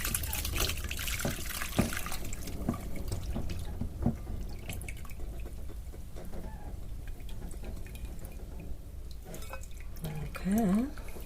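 Dark mushroom broth for a vegan French onion soup poured through a strainer, light dripping and trickling liquid with scattered drops and splashes, soft and close, and a brief voice near the end.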